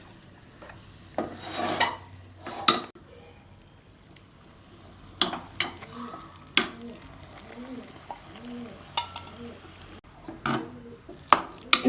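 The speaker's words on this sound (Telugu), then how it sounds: "ఇప్పుడు మీడియం ఫ్లేమ్లో ఈ పాకం అంతా అన్నానికి పట్టేలాగా కలుపుకోవాలి" Jaggery syrup poured into cooked moong dal rice for sweet chakkara pongali, stirred in over a medium flame, giving soft squelching and scraping strokes with occasional spoon clinks on the pot, close and fairly quiet.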